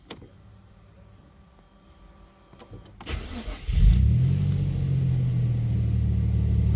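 A Nissan VQ25DET engine starts and settles into a steady idle while warming up on ramps, a loud low rumble with a sharp cranking burst near the start.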